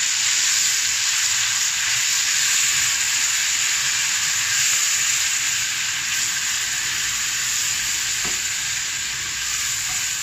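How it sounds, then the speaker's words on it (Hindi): Spices and garlic-ginger paste fry in a pan with a loud, continuous, close sizzle that holds steady throughout, with no voices. "और लहसुन अदरक का पेस्ट डाल दिया मैंने। इसको अच्छी तरह से फ्राई करेंगे।"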